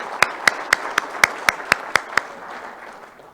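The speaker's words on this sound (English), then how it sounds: "So if we could give Walt a little round of applause, I'd like to do that." A small Rotary club audience at a meeting gives a brief round of applause, a sparse patter of about nine distinct claps in a steady rhythm that fades out.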